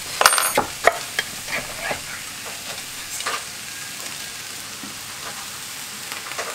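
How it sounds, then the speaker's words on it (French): Vegetables and canned crushed tomatoes sizzle and cook in a pan while a utensil stirs and scrapes through them, giving a steady close frying hiss broken by irregular stirring clicks, with no talking. "on va commencer à faire cuire les légumes. Je vais ajouter une boîte de concassées de tomates."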